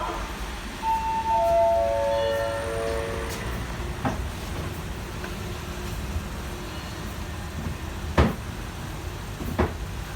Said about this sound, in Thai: ขบวน ธรรมดาที่ 254 นะครับ ต้นทาง หลังสวนสุดไปทางชนบุรี นะครับกำลังเคลื่อนตัวออกจากสถานีรถไฟบ้านโป่ง